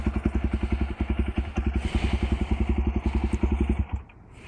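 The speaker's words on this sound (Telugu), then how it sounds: "చాలా ఎక్కువ సౌండ్ వస్తుంది బండి అయితే" A Jawa Bobber 42 motorcycle with its stock factory silencer idles close by, thumping out a steady, loud low pulse for about four seconds before cutting off abruptly, leaving quiet background.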